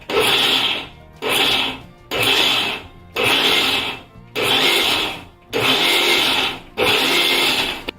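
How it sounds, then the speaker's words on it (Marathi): A mixer grinder crushing whole wheat kernels runs in seven short pulses, each a loud whirring grind of about a second, separated by brief pauses as the motor is switched on and off. "त्यासाठी मिक्सर बघा नुसतं ऑन ऑफ करावा"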